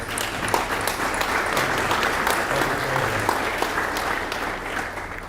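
A dense, steady wash of audience applause fills an awards banquet hall and carries on evenly for several seconds without speech.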